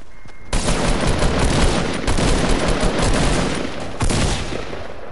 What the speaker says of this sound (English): Back up, you got two people firing.